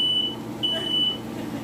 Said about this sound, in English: it's not just that the smoke alarm is sensitive.